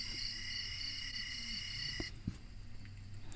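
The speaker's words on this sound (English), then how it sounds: "You got the crickets." Crickets chirping steadily as a relaxing night ambient soundscape from a JBL headphones app, a continuous high, even trill with a few soft low knocks near the end.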